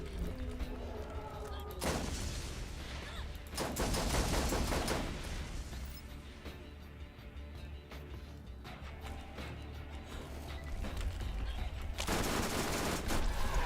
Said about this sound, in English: that is SMG Lilith versus Cromarax on playthrough 1